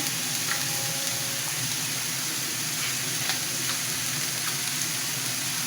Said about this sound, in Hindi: इसकी एक लाइन मैंने लगा दी है। चलेंगे इसको हम साथ साथ फ्राई करते जाएंगे।